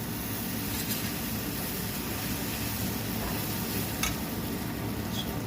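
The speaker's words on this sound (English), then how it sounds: "we are going to put the poha in it and mix everything up" Poha being stirred into cooked onions in a pan for kanda pohe, a steady close sizzle with soft scraping as the flakes are mixed, a few faint clinks on top.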